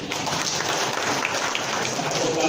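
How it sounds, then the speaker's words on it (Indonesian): An audience at a seminar on forming a new city district in Meulaboh claps together in a dense, even burst of applause lasting a couple of seconds, loud and close, with no voice over it. "tepuk tangan untuk beliau"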